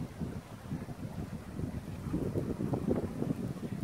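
A Black Series trimaran bait boat for fishing runs at speed over water, giving a steady, close motor hum with splashing and wind buffeting on the microphone, with no talk.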